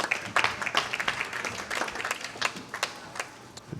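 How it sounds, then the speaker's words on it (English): Crowd applause at the PWBA Pepsi Open women's bowling championship, irregular scattered claps at moderate distance, fairly quiet and thin rather than a dense ovation. "Let's give these ladies a round of applause."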